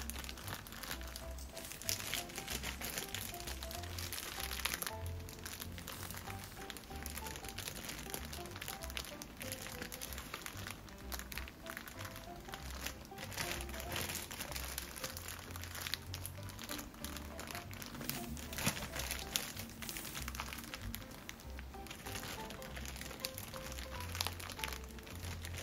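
Steady crinkling of a plastic freezer-safe bag as ripe banana pieces are packed into it, close, continuous rustling with soft crunches.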